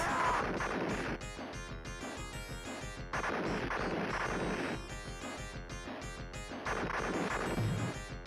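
Rolento's grenades burst in repeated loud, crunchy crashes over busy game sound in the arcade game Final Fight, arriving in clusters roughly every couple of seconds.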